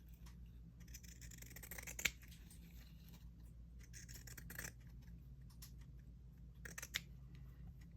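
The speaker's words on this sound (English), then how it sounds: "So I'm just going to cut a strip of each." Scissors snip through a strip of craft material in a quiet room, producing a few faint, isolated cuts with soft rustling and handling noises in between.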